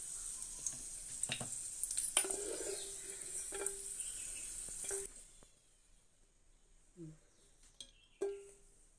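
Semiya (vermicelli) frying in ghee in a pan for semiya kesari, a light steady sizzle with stirring scrapes and a few clinks during the first half, then quiet with occasional soft knocks.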